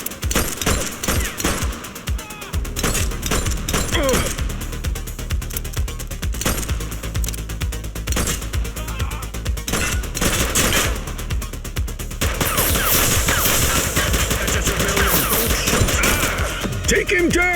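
Automatic gunfire in The Precinct, a police game, crackling in dense rapid bursts that run nearly nonstop and swell louder toward the end, with voices shouting over the shooting.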